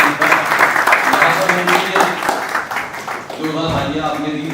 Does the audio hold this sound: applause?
yes